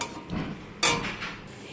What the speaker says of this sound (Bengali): দিয়ে সব কিছুকে আবারও একসাথে মিশিয়ে নিচ্ছি।